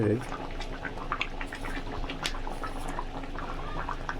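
A fish curry with elephant foot yam and potato bubbles steadily in a pot, a soft continuous simmer with small pops, while someone talks over it.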